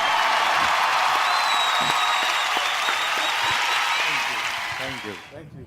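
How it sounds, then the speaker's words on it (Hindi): Loud, dense audience applause rings out at an award ceremony, a sustained roar of clapping with faint cheering mixed in, fading toward the end as a voice begins. "जोरदार तालियां"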